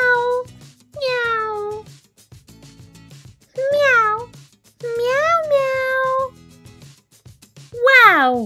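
A toy kitty meows repeatedly in a toy fire-rescue play scene with a cat stuck in a tree, loud electronic meows in bursts with pauses and faint background clatter between them.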